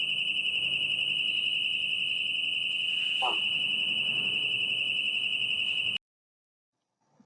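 A transformer PRV trip relay alarm sounds as a loud, steady high-pitched electronic tone that holds continuously for about six seconds and then cuts off abruptly, leaving near silence.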